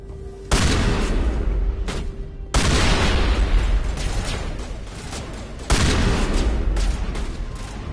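Heavy shotgun blasts in a sci-fi shooter game set around the Citadel: three loud, booming discharges at roughly two-second gaps, each followed by a rumbling decay and a short trailing crack, with no talking.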